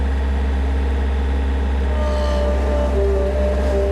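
A farm tractor engine idles close by in a steady, loud low rumble with an even throb that holds throughout, with no talk.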